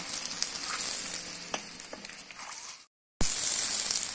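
Eggs frying in hot oil for an aloo egg curry give a steady, close sizzle and crackle with occasional sharper pops, cut by a brief gap of silence before the frying resumes just as loud.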